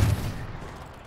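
Gunfire from the tactical shooter Valorant, a short loud burst at the start that quickly fades into a low rumbling tail, with no voices.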